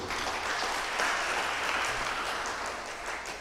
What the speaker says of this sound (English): Give the Lord a clap of praise.